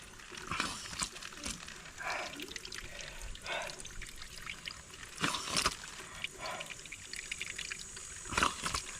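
Cold water trickles and splashes in a thin stream into a container on Mt. Pinagbanderahan, Cavite, steady and close, with a few clattering knocks.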